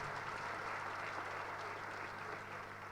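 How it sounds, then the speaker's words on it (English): Audience applause at an NSSF annual members' meeting, a steady even wash of clapping from a seated crowd, fairly distant and soft, lasting the whole moment. "Ladies and gentlemen, the MD and the chairman of NSSF, a round of applause,"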